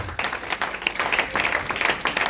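A church congregation breaks into applause: dense, crackling clapping from many hands, close and lively, lasting about two seconds.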